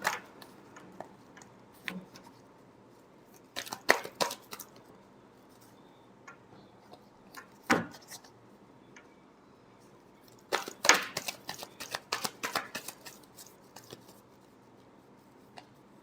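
Tarot cards get a last shuffle, scattered bursts of crisp paper riffles and taps separated by quiet pauses, close and moderately soft.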